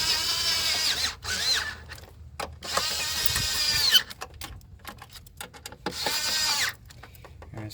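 Power tool whirring in bursts while bolts are driven in on the starter of a 2003 Toyota Avalon 3.0 L V6, three close, loud runs of a few seconds each separated by short quiet pauses.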